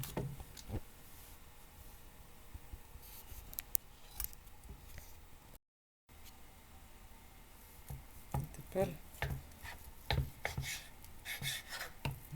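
A knife slices through a festive rolled pork shank roulade that was pressed overnight, giving scattered crisp cutting and squishing sounds with a short silent gap, while a person talks quietly in the background.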